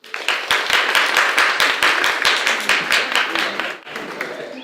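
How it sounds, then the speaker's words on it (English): An audience at an oral history class presentation breaks into steady, dense clapping, loud and close, with a few louder individual claps standing out before the applause thins and fades near the end. "Some people are clapping extra hard because they're worried about their grades"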